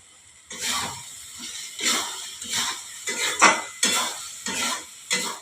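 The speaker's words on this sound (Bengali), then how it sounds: "এবারে আমি টমেটো সসটা দিয়ে দিচ্ছি।" Tomato sauce being stirred into sizzling methi paneer in a pan, with about nine scraping spoon strokes in a steady rhythm over a soft frying sizzle, close and without talk.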